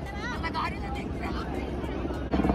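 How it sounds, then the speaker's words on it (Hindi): Helicopter flying over Har Ki Pauri in Haridwar during a presidential visit, a steady broad rotor and engine drone sustained throughout under crowd noise and speech, with a louder swell near the end. "ये देखो फ्रेंड्स, ये एक और हेलीकॉप्टर आ रहा है"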